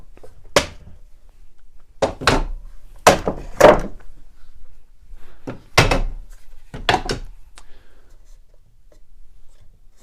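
Clamps coming off a glued wooden drawer divider in a cabinetmaking shop, heard as several sharp knocks and clunks, some in quick pairs, separated by quiet gaps.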